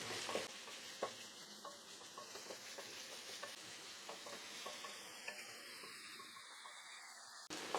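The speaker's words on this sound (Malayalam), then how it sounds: "ഇനി ഇതെല്ലാം കൂടെ ഒന്ന് വഴറ്റി കൊടുക്കാം." Sliced onions and halved green chillies sautéing in hot oil for a Kerala chicken curry, giving a soft, steady sizzle with occasional quiet ladle stirs and scrapes, close by and without talk.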